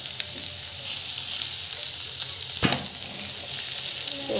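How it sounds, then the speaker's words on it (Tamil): Potato being sautéed with turmeric powder in a pan for a dhaba-style aloo palya, giving a steady, close sizzle and frying hiss throughout, with one brief sharp stir or scrape of the utensil partway through. "மஞ்சள் பொடி நல்லா வந்து வதக்கிட்டுருக்கேன்."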